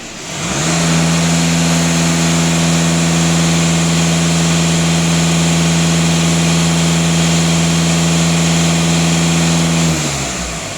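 A VW Golf 2.0 TDI diesel engine is held at about 2500 rpm, a loud, steady, close-up drone that rises from idle at the start and drops away at the end.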